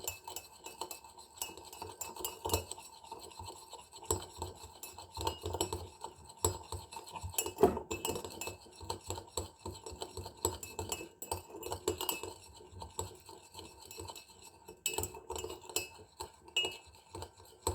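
A spoon clinks and scrapes rapidly against a glass, whipping instant Nescafé with a little water until thick, in a steady, vigorous beating rhythm, close up and fairly quiet.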